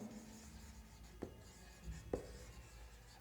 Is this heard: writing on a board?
yes